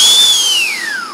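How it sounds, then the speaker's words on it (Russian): A vortex whistle sounds a single loud, pure tone that holds steady and then slides smoothly downward over about a second, with no other sounds. "Вихревой свисток"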